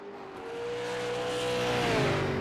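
Race car engine at Mid-Ohio during a Can-Am series pit stop, a loud sustained droning whine that holds steady and shifts pitch near the end, with broadband roar around it.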